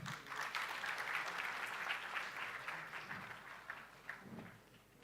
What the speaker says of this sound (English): May we have a huge round of applause for them.